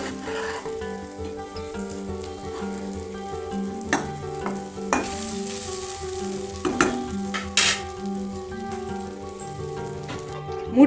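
Egg masala simmering in a pan gives a steady sizzle and bubbling that runs throughout with a few louder pops and clinks, under background music and with no voices.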